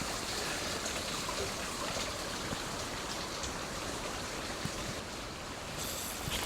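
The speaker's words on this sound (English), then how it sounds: "I'm just wading down the still part of this pool now" Water swishes and churns steadily as someone wades slowly through the still part of a trout stream pool, with a dense, continuous splashing wash and no voices.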